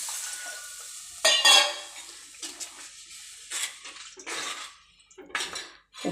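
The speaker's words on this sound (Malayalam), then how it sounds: "ഈ പുളിവെള്ളം ഇതിനകത്ത് ഒഴിച്ചു കൊടുക്കാം" Tamarind water poured into a pan of fish curry, giving several separate bursts of splashing liquid and clinks of metal utensils against the pan between quieter pauses, with no talking.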